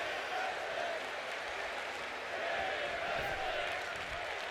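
An arena crowd in the WWE 2K25 wrestling game keeps up a steady, dense roar of applause and cheering during a match, even and unbroken throughout.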